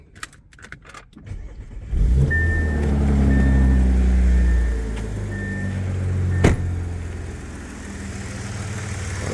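Audi A6 3.0T with an upgraded high pressure fuel pump starting up: a short cranking burst, then the engine catches and settles into a steady close idle, with a faint whine and a brief click midway.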